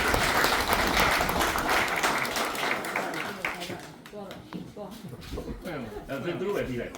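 Wedding guests applaud warmly at a Burmese wedding ceremony, a dense burst of clapping that is loudest at first and then thins out, with voices and chatter rising through the crowd as it fades.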